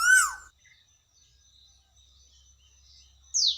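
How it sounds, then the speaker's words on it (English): A tailorbird calls with a sharp, high descending chirp at the start and a second bright note near the end, separated by near silence, heard alone and fairly close. "Tailor bird."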